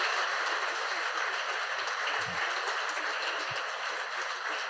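A church congregation applauds during a testimony service, an even wash of many hands clapping at moderate volume with no talk over it.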